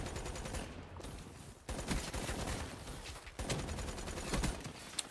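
Call of Duty Black Ops 3 gameplay brings dense, loud automatic gunfire in sustained bursts. Two brief gaps split the shooting, and no talk can be heard.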